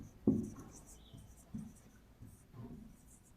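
Chalk or marker writing on a board during a maths lesson on set theory, with a few short scratchy strokes and taps at close range in a quiet room.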